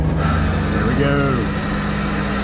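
The cooling system of a race driver's cool suit runs inside a Lamborghini Super Trofeo EVO2 and makes a steady, loud mechanical hum with a rising and falling whine partway through. Speech blends into the sound.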